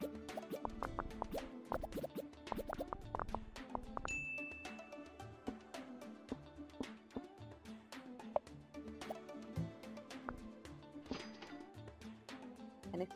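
Bubbles popping in the Game Dev Tycoon video game: many soft, scattered plops and drips at an uneven pace, fairly faint, under a quiet musical background with no talking.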